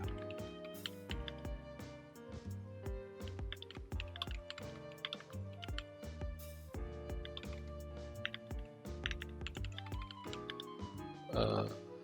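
Keys clatter on a computer keyboard in quick, uneven bursts of clicks while steady tonal background music plays underneath.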